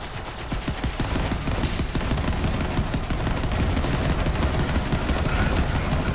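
Rapid, dense bursts of Sawbar rifle gunfire in Borderlands 3, shots cracking in quick continuous succession at steady loudness for several seconds, with faint voice underneath.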